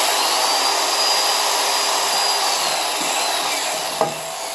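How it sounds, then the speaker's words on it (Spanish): A last finger hole is drilled in a bamboo dizi flute, giving a steady buzzing, whirring hiss of bit against bamboo throughout, up close, with a short sharp knock near the end. "vamos a hacer el último orificio para que quede en fa"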